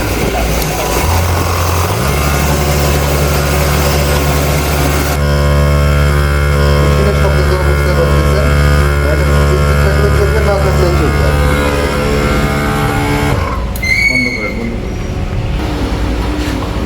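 A Turkish Melasty milking machine motor starts up and then runs with a loud, steady mechanical hum that dominates throughout, with no talking over it.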